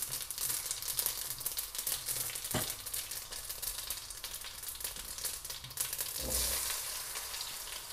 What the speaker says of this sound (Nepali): यसलाई चाहिँ ब्राउन हुने गरी फ्राई गरेँ।